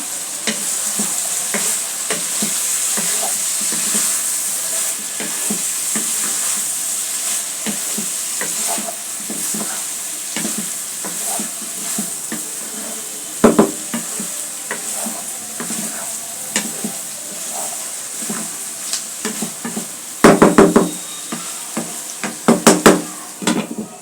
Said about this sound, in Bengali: এখন আবার একটু নেড়ে দেব।